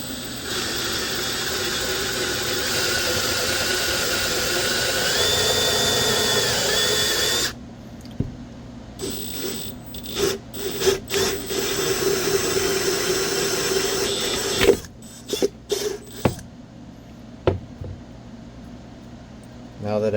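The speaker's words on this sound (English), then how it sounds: "And then now it's gonna start drilling the hole." A power drill whines steadily while boring a hole into a self-watering plant pot, then cuts out and restarts in short bursts with pauses and clatter between.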